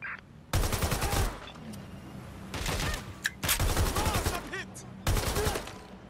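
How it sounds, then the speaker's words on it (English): Rapid bursts of AK-47 gunfire in the video game Watch Dogs Legion, loud automatic fusillades in several long volleys with short gaps, accompanied by scattered in-game voices. "That AK-47 works pretty well."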